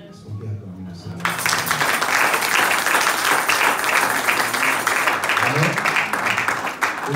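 Church congregation breaks into loud, sustained applause and cheering after a brief quiet opening, the clapping and voices steady and dense through the rest.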